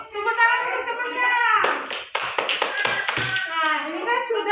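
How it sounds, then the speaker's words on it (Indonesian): Kindergarten children in a Palembang classroom break into a burst of quick, close hand claps lasting about two seconds, with a teacher and children talking before and after. "Tepuk tangan untuk temannya."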